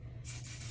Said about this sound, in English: this is the Kenra texturizing spray